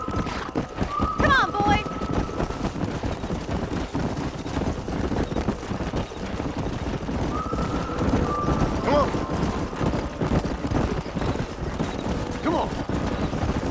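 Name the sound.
horses galloping in Red Dead Redemption video game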